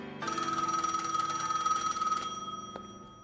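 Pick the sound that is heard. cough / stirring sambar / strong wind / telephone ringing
telephone ringing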